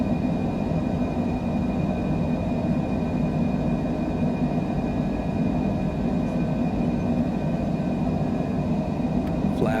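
A Cessna Citation Longitude business jet climbing out after takeoff from Dubai, heard as a steady, loud, broadband engine roar from inside the aircraft that holds constant throughout with no break.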